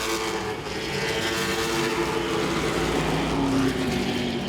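Late model race cars race at Langley Speedway with a continuous engine roar, steady and fairly close, the pitch shifting slightly as the cars pass.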